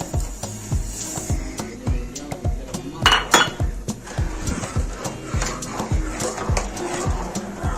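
Metal spoonfuls of sugar clink against a pot of milk being made into rabri doodh, a quick run of sharp taps and scrapes close by over a low kitchen hum, with soft talk in the background.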